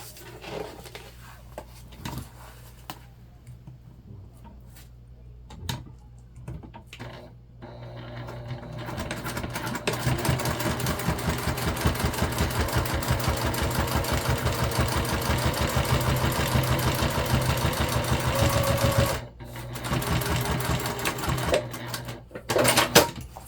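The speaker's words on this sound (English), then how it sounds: "And we're going to put a top stitch in." A sewing machine runs a top stitch along a backpack slip pocket, starting with sparse mechanical clicks and handling noises before settling into a steady, close, rapid needle rhythm that briefly pauses and resumes.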